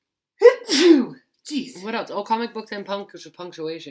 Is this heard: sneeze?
yes